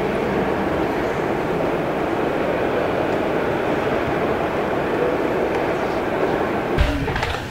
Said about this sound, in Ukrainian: в цьому в трені на електричці